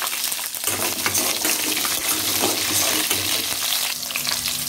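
Shallots frying in hot oil in a pan for Tamil vatha kulambu, a dense, steady close-up sizzle with faint stirring, running continuously at moderate loudness.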